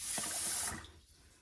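Water runs into a pot of rice from a tap for cooking, a steady close splashing flow for most of a second before it stops, with no talk.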